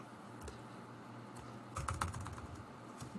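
Soft keystrokes on a computer keyboard tap quietly at close range, a few isolated clicks followed by a denser cluster of typing over faint room hum.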